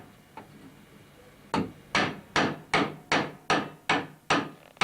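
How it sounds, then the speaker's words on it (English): A hammer gently tapping a part down onto a brass tube in a drawn tube workshop, with one faint tap, then eight steady, evenly spaced knocks that ring briefly, close by. "let's see, move my hammer. Right, just tap that down gently."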